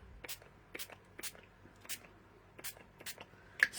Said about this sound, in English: spray stain on the back.